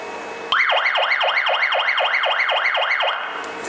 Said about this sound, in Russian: Длительное нажатие сейчас включит систему сигнализации.